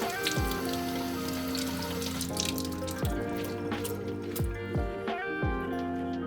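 Water runs and splashes as bok choy leaves are washed, a steady close stream broken by repeated drips and splashy plops from the leaves, with no talk.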